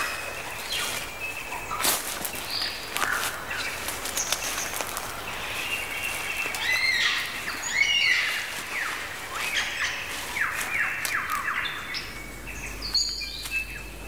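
A superb lyrebird's varied stream of mimicked calls, whistles and whip-like notes in quick succession, some sharp and mechanical-sounding, ringing clearly over a quiet natural background.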